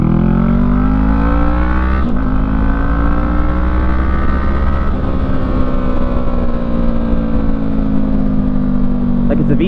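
A 2017 Honda CB500F twin-cylinder motorcycle revving while being ridden, a loud steady engine drone with rising and falling pitch and a strong low rumble. Heavy wind roar sits under it the whole way.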